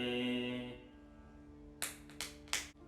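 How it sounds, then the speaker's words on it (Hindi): Three sharp two-finger claps of the right index and middle fingers against the left palm, sounding in quick succession after a sustained tone fades, close and crisp against a quiet room. "राइट हैंड की 2 उंगलियों से कौन सी, तर्जनी और मध्यमा से लेफ्ट हैंड की हथेली पर ताली"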